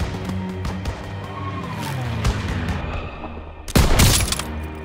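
Scattered gunshots and distant firefights in a World War II battle scene from Call of Duty: WWII, with a louder, closer burst of fire near the end over a steady rumbling battlefield backdrop.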